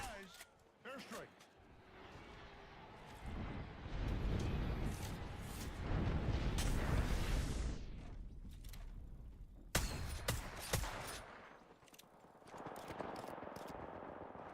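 Airstrike explosions in the video game Apex Legends thunder in a cluster of booming blasts through the middle, with sharp gunfire cracks before and after and a voice talking throughout.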